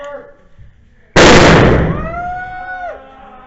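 A fragmentation grenade explodes in a video game: one sudden loud blast, then a ringing, sustained tone that slowly fades, with brief faint talk before the explosion.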